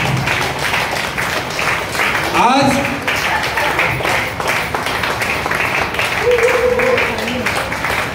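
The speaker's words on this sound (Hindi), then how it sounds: "तालियां जोरदार होनी चाहिए।" Applause at a Women's Day celebration held at HTL Suvi Palace, with crowd clapping running continuously beneath someone speaking over a microphone and some scattered louder claps.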